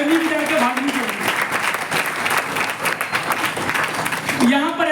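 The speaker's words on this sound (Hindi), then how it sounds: "अरे तालियां बजाना है तो जोरदार बजाइए" Audience applause at a wellness company event, continuous crowd clapping under someone talking loudly over it, near and fairly loud throughout.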